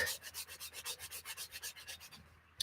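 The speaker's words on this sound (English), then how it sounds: "I'm going to sand it first." Steady back-and-forth scraping of sandpaper by hand, about a dozen even strokes in a quick rhythm, close and fairly quiet, ending with a light tap.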